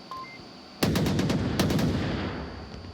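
Sustained automatic gunfire in the VR shooter Onward during a competitive match, a loud burst starting partway in and a second volley soon after, rattling on continuously without speech.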